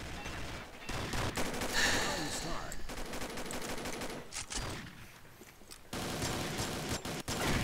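Gunfire in the shooter video game Combat Arms, dense bursts of rapid automatic shots with brief pauses between volleys, loud and continuous, with a voice faintly present beneath.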